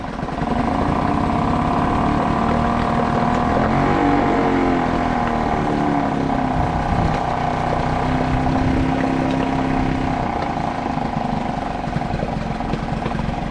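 A Suzuki 2.5 HP outboard motor idles smoothly after a carburetor repair, a steady, loud, even mechanical drone sustained throughout with no talking.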